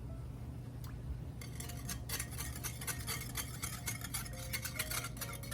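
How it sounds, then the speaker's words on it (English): A wire whisk beats milk and ground black pepper in a bowl for a green bean casserole, a quick run of bright metallic ticks and scrapes starting after a quiet moment and continuing steadily against a low hum. "mix this up really well with our wire whisk"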